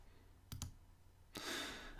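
Computer mouse clicks on a web page: a quick double click, then after a pause a single click followed by a soft rustle, all faint and close with no talking.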